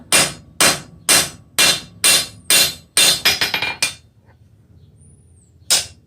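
A hammer strikes hot iron on an anvil while a bick iron is forged, ringing out in evenly spaced loud blows, then a quicker burst of lighter taps, a pause and one final strike.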